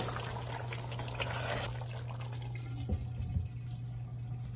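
A yogurt and spice mixture for Kashmiri beef rogan josh is poured onto the meat, a soft, steady wet pouring and dribbling sound with a low background hum throughout.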